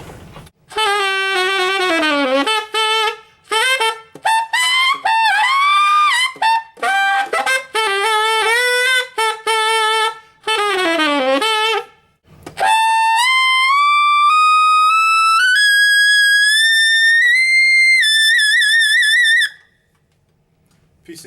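Tenor saxophone running a B blues scale across four octaves up into the altissimo register, played solo as fast rising and falling runs that end in long climbing high notes.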